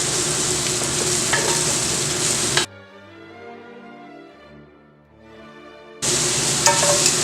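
Onions sizzle steadily in safflower oil over medium-low heat for a Hungarian Csikós Tokány stew. A loud, close frying hiss fills the start and end, broken by a few seconds of music in between.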